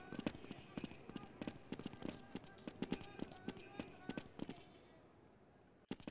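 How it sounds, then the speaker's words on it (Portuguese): Explosions and gunfire bursts in the video game Counter-Strike 1.6, a dense run of sharp repeated blasts and cracks over about five seconds, then a short pause and one final loud hit. "Explosão, tchacabum."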